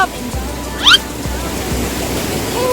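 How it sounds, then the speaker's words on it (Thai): The Namkatyorlapa waterfall gives off a steady, loud rush of falling water that fills the scene, with a brief high chirp-like call cutting through the roar partway in. "ตอนนี้เขากำลังที่น้ำตกน้ำกัดยอละปา"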